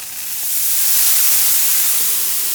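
A strong, steady hiss of water flashing into steam on a hot Blackstone griddle beside smashburgers, swelling quickly and holding loud for a couple of seconds.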